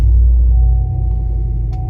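A 2020 Chevrolet Silverado 1500 LT Trail Boss engine fires up from a push-button start, a loud low rumble that settles into a steady idle, close and alone.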